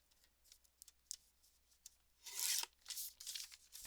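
Scissors snip along the line of a bag for a Christmas card craft, making quiet close clicks and scrapes, then a longer rustling cut through the material.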